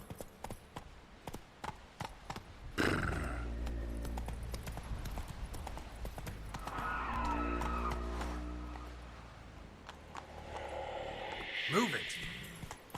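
Geralt's horse Roach from the video game Witcher 3 galloping in quick clip-clop hoofbeats, loud and close, with a brief snort and a voice speaking over parts.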